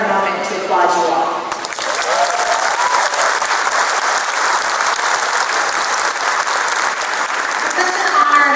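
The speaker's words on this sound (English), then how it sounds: "I want to start with a moment to applaud you all." Sustained applause from a large graduation audience at a Ph.D. ceremony, a broad even wash of clapping after a few spoken words at the start, with faint voices under the clapping.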